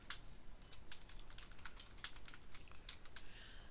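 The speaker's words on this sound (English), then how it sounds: "So I'm just hitting enter and typing." Quiet, steady clicking of keys on a computer keyboard, with irregular taps and occasional sharper strikes like the enter key, close and alone without talk.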